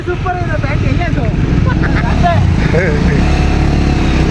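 Motorcycle engine droning steadily beneath a ride, a constant low rumble with voices talking over it throughout.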